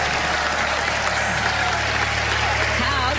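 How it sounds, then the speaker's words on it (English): Loud, continuous clapping from a television studio audience at a magic show, a steady wash of applause over a low background hum. "Give a huge round of applause."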